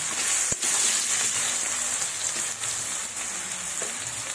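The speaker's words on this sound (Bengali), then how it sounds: "এবার আলুগুলো ভেজে নেব" Potatoes frying in hot oil in a pan, a steady bright sizzle with crackle throughout and one sharp pop near the start, close and loud with no talking.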